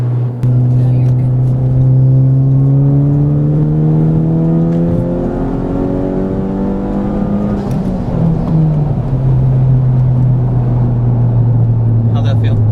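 A 2021 Honda Civic Type R accelerates hard up through the gears, its engine note climbing in pitch, dropping at a shift and climbing again, loud and close from inside the cabin.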